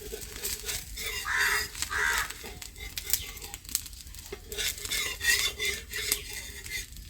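A cooked dosa being lifted off a hot pan in a village kitchen, with light scraping and clinking of a spatula on metal and a faint crinkling sizzle, close and fairly quiet, with no talk.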